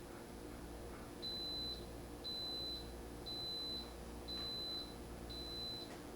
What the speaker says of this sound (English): So once this beeping happens, that means it's done.